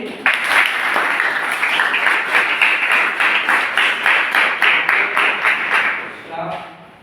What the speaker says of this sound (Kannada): ಎಲ್ಲರೂ ಚಪ್ಪಾಳೆ ತಟ್ಟಿ